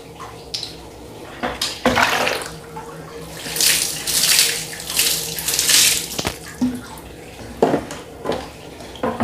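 Water pours and splashes inside a water dispenser as its interior is rinsed, in irregular gushing bursts with brief pauses, close and fairly loud.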